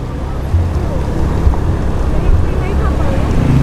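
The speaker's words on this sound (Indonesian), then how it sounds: "Dia naik kapal aja" A boat engine droning steadily during a ride on the lake at Rawa Jombor in Klaten, with wind rushing over the microphone and voices talking now and then.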